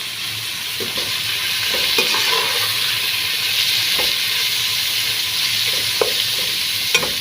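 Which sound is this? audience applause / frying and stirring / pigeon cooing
frying and stirring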